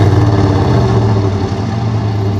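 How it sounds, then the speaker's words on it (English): A 1991 Chevy truck engine with a white-smoke problem runs loud and close, holding a deep, steady rumble at a fairly constant pitch with only slight swells in throttle. "Give it a little bit of gas. Yeah, rev it a little bit."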